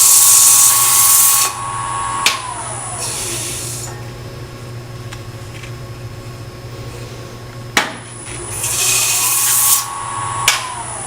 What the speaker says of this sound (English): Just a quick sand.